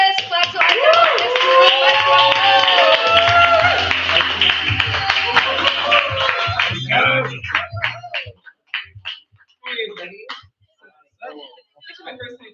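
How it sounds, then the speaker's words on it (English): An audience at an open mic claps for a performer, with dense, loud applause, cheering and voices that fade out after about eight seconds into sparse claps and scattered talk. "Clap to Idalis"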